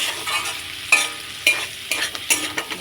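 Chow mein stir-fried in a pan with fried egg, onion greens and capsicum, with a steady sizzle under repeated scraping stirs and occasional sharper clacks of the utensil, close and fairly loud, no talking.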